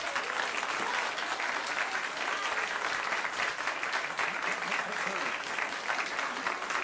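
Steady, sustained applause from an audience fills the whole stretch, many hands clapping at an even density without a break or swell, with a faint crowd murmur beneath.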